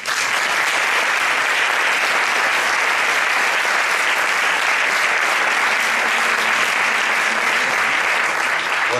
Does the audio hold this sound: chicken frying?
no